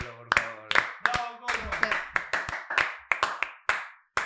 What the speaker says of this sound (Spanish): Un aplauso para el colo, por favor.